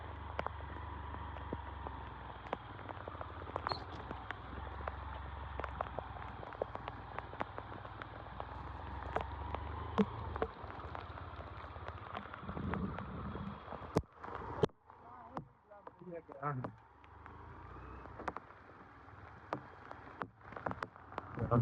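Easing rain near a house: a steady, close hiss of falling water dotted with scattered drip ticks, briefly unsettled near the end.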